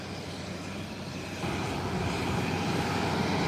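A Beechcraft 1900 turboprop of Caicos Express taxis in on an airport ramp, its steady engine drone close and continuous, growing slightly louder partway through.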